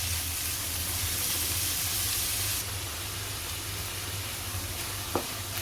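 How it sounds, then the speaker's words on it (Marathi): Onions frying in a pan for Mumbai-style pav bhaji, a soft continuous sizzle close by that eases slightly partway through, with a single light tap of a utensil near the end. "कांदा चांगला मऊ शिजून घ्यायचा आहे आपल्याला"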